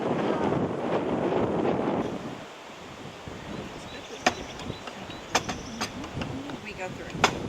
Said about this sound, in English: It is nice and sunny, but the wind is a little on the chilly side.